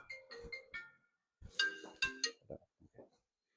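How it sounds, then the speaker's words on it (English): A phone ringtone for an incoming call plays short melodic electronic tones in two bursts separated by a brief silence, clear and fairly close with no talking. "I just got a phone call."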